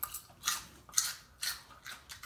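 Crisp Dole packaged salad is chewed up close, giving about five rhythmic crunchy bites spaced roughly half a second apart, quiet and with no talking.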